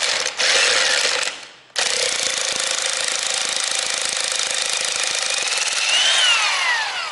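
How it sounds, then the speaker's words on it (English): Impact gun rattling loose the strut nut while fitting Solo-Werks coilovers to an MK7 GTI, a loud, close, harsh buzzing hammer with a brief stop and restart, then a long steady burst that rises in pitch near the end. "use an impact gun, hold it down,"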